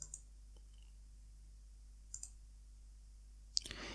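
Mouse clicks on the buttons of a simple JavaScript calculator, a few sharp, isolated clicks spaced apart over near-silence, the last one slightly louder.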